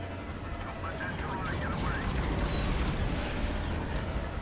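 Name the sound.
gunfire in Star Wars Battlefront 2 video game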